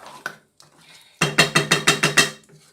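A ladle scraping and clinking against a pot while mutton nihari is served into a dish, a quick run of about eight rhythmic metallic scrapes after a few quieter knocks.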